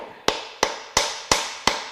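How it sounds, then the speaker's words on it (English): Five sharp metal hammer strikes on a rounded-off bolt during a salty, high-mileage Subaru Outback EZ30R 3.0 H6 engine teardown, evenly spaced about a third of a second apart, close and loud, each ringing briefly before decaying. "What we're going to do is we're going to hammer on this"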